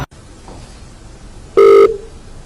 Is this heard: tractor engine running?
no